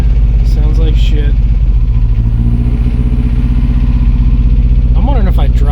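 A 1988 Jeep MJ engine with a spark plug misfire runs loud and close with a lumpy, uneven idle throb, and voices break in briefly at the start and the end.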